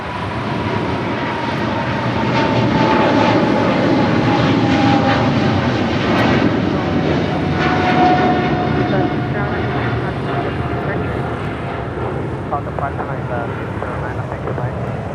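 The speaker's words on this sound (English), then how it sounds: "Eva Air Cargo, flight 609, heading back to Taipei" An Eva Air Cargo freighter on flight 609 departs Los Angeles International for Taipei with a loud, continuous jet roar and a whining engine tone, heard close by as people talk nearby.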